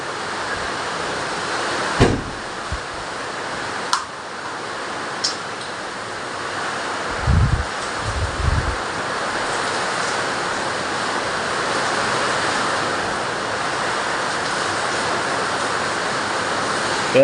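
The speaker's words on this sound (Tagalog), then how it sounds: "Grabe ulan oh. Oh. Tapos may kasamang hangin." A loud, constant roar of heavy rain and gusting wind, with a few brief thuds and knocks partway through.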